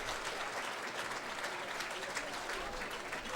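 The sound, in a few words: crowd applause at women's soccer match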